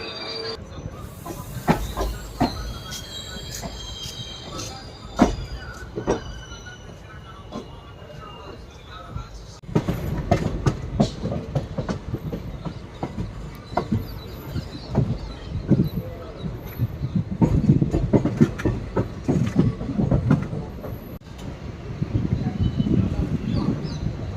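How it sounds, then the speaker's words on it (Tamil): A passenger train departing on the Tirunelveli–Kanniyakumari line rumbles and clatters along the rails with wheel squeals and hissing, its rhythmic clacking growing steadily heavier as it moves. "ஆன் டைம் பார்த்தீங்கன்னா நம்ம ட்ரெயின் டிபார்ட் ஆகிடுச்சு."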